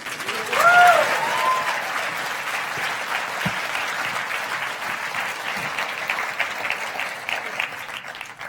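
A large audience at a science communication competition final bursts into applause and cheering for a FameLab contestant, a brief whoop near the start, then sustained dense clapping that holds steady to the end.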